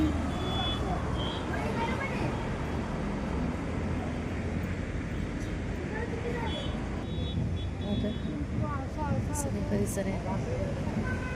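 Road vehicles pass near a hillside Vaishno Devi temple at Vasind, Padgha, giving a continuous low traffic rumble with faint engine tones and occasional higher whines, while people talk softly underneath.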